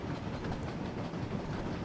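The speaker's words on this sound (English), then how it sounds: "let's get back into the train" Train rolling along in a Thomas & Friends video game, a steady rumbling clickety-clack that runs evenly and fairly loud, with no talk over it.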